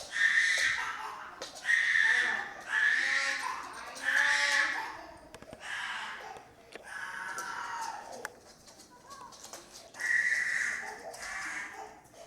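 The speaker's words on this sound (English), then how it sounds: "My poor sweet dog." A dog whimpering indoors in repeated high, drawn-out whines and cries, several separate bursts with short gaps, close and fairly loud.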